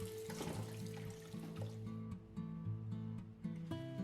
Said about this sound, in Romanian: îl spălăm bine cu apă rece